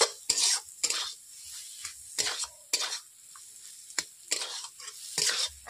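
A spoon scrapes and stirs pea masala filling in a wok, with repeated quick, uneven strokes against the metal over a soft frying sizzle in a quiet kitchen.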